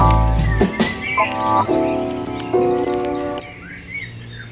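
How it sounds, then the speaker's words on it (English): Birds sing and chirp in short repeated phrases, fairly close and clear, with several bright calls overlapping against a quiet background. "I haven't woken up to the sound of birds in quite this style for many years."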